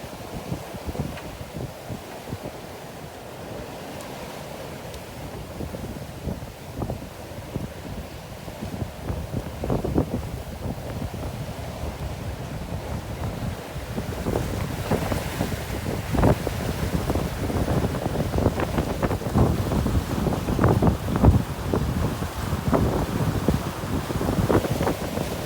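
A sailboat running solo toward Grenada in steady wind, with continuous buffeting wind rumble across the microphone and water rushing and slapping against the hull, growing rougher and louder in the second half.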